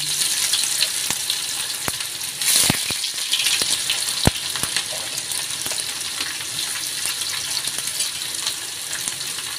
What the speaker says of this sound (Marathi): आपण आता कांदा तळून घेऊ आणि कांद्याबरोबर बटाटा तळून घेऊ.